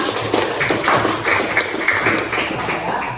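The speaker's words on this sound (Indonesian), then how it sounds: "tepuk tangan untuk kita semua" Students in a classroom clap together in a quick, rhythmic burst of short hand claps, close and fairly loud, with a little background chatter.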